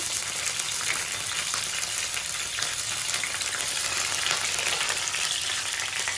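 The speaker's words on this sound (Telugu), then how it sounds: "చూడండి పల్లీలు ఫ్రై అవ్వాలి పచ్చిమిర్చి చేస్తున్నాను" Peanuts and green chilies fry in an oiled pan, giving a steady, dense sizzle that stays loud and close throughout with no talking.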